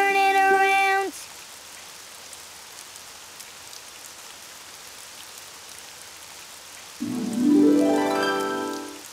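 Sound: rain falling outside in a cartoon

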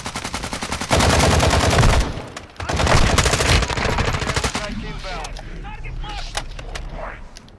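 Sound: zombie shooting gunfire in a video game

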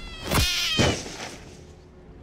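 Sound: black cat wailing, audiobook sound effect

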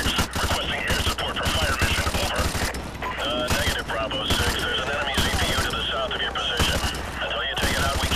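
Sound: gunfire in Call of Duty 4 Modern Warfare Remastered video game

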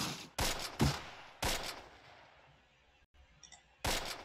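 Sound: suppressing gunfire in the video game Close Combat Wacht am Rhein

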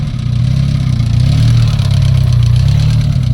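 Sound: car engine started with VOIN LV 150 jump starter, idling

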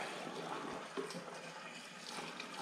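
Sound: vacuuming old gas out of a boat fuel tank

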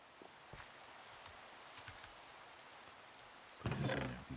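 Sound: rain falling in video game Minecraft

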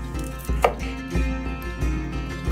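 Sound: chopping garlic with a knife for fish pie

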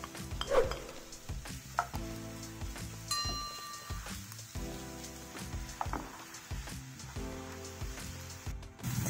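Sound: onion frying in coconut oil in a pan

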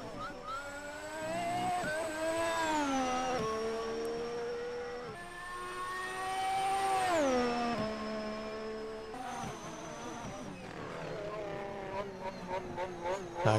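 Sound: Honda racing car engine in video game

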